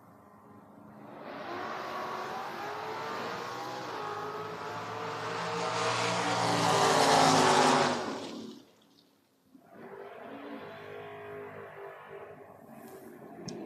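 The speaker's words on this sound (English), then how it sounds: "Stephen Dickey here, tower side, 622, taking on the newer school Camaro of George Fisher." Drag racing cars, including a newer Camaro, launch at a door wars event, a distant engine roar that swells over several seconds and fades, then a second car's quieter rumble follows.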